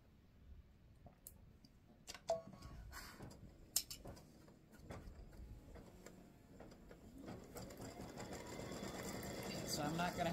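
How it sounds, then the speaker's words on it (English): An embroidery machine stitches red stripes onto freestanding lace oval earrings with rapid mechanical clicking and ticking that grows into a steady, louder chatter, close by, while someone talks over it. "so now we're stitching the red stripes"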